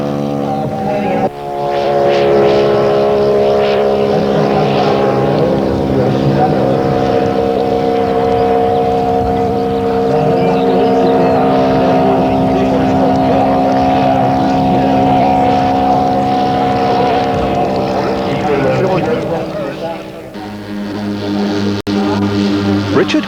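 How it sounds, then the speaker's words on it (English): A model Sopwith Tabloid aircraft powered by a 200cc King engine flies at an air show, its engine giving a loud, steady droning buzz with strong tonal harmonics that holds for about twenty seconds, then dips briefly and returns. "Powered by a 200cc King engine, it's flown in a very realistic manner."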